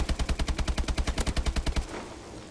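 Rapid automatic gunfire from Call of Duty Advanced Warfare, a fast steady burst of about fifteen sharp shots over two seconds, then cutting off into a fading reverberant tail.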